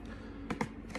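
Two or three quick, close clicks as the delete key and neighbouring keys are pressed on a computer keyboard, crisp and brief over a quiet background.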